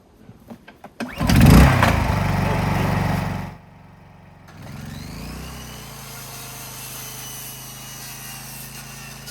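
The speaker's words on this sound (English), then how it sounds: "See how the old Honda fires up here." An old Honda engine, seemingly a lawn mower or similar small motor, cranks a few times, catches and roars loudly, drops out briefly, then settles into a steady, moderately loud idle with no talk.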